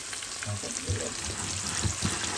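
Pieces of hilsa fish lightly frying in oil in a pan, a soft, steady sizzle with faint crackles and small stirring sounds throughout.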